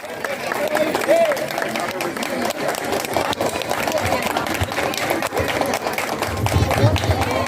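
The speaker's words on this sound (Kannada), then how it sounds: "ಜೋರಾದ ಚಪ್ಪಾಳೆ" Loud, sustained applause from an audience at a temple cultural program after a Bharatanatyam dance performance, dense clapping filling the whole stretch with crowd noise underneath.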